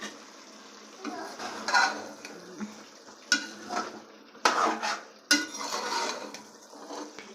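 Chicken liver goes into a pan and is stirred, with a metal spoon scraping and clanking against the pan in irregular bursts over a soft sizzle, close and with no talk.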